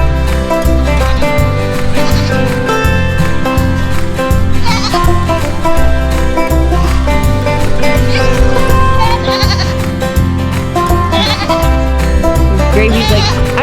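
Young goats newly brought to a homestead bleat repeatedly and loudly over a steady rhythmic music bed.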